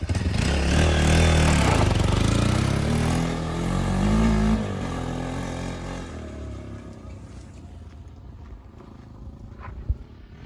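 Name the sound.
motorcycle engine revving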